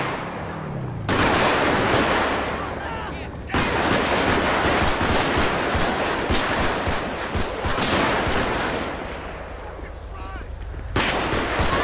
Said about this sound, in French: Oula, coup de feu, coup de feu.